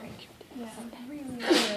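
A single sharp sneeze bursts out near the end, close and fairly loud, right after a few quiet words of casual talk in a classroom.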